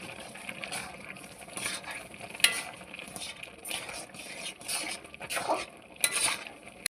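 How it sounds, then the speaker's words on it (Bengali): Milk powder is stirred into carrots cooking in a pan for carrot halwa: quiet, close scraping and stirring strokes in an uneven rhythm, with a few sharper clinks from the spoon against the pan. "গুঁড়ো দুধটা দেওয়ার পরে আমি দুধটাকে ভালোভাবে মিশিয়ে নিচ্ছি।"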